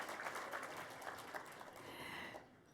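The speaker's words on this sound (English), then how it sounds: "Yes, you can clap if you want to" Quiet audience clapping at a charity gala, a scattered round of applause heard from a distance and fading near the end.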